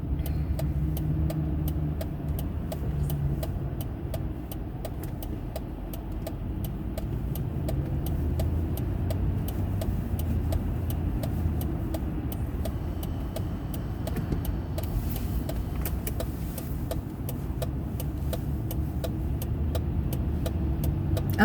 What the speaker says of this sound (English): I'm driving and I need to focus here and there